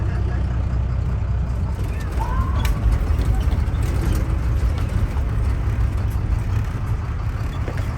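Safari park tour bus rolling along, a steady low engine and road rumble running throughout, fairly loud and constant, with faint background voices.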